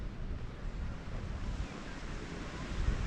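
Sea surf breaking along Paguera beach in Mallorca, a steady broadband wash of waves with wind buffeting the microphone, continuous and fairly close.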